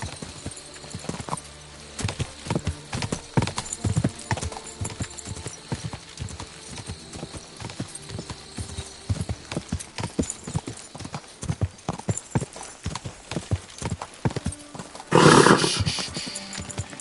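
Rapid, rhythmic hoofbeats of a galloping horse in the video game Kingdom Come: Deliverance II pound steadily throughout, with a brief burst of louder rushing noise near the end.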